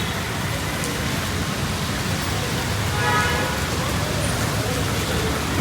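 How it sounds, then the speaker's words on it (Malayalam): Heavy rain pours down steadily in a dense, continuous hiss near Chalakudy, with a faint passing vehicle in the background. "മഴയത്ത് പെട്ട് നിൽക്കുകയാണ് മഴയത്ത് നല്ല മുടിഞ്ഞ മഴ"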